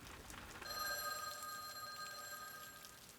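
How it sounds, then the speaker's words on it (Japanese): A telephone rings steadily and persistently on a day off at a mansion on a hill, its tone sounding thin and a little distant beneath faint background hiss, with no voices. "電話の根気強さは並ではない。"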